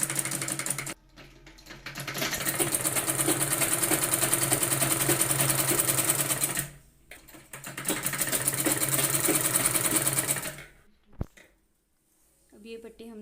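A sewing machine stitches a seam on a blouse, loud continuous whirring runs in two long bursts separated by a short pause, then stops with a click near the end.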